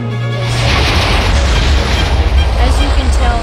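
Booming TNT explosions in the Minecraft video game, a loud sustained roar of rumbling blasts rolling continuously with no pauses.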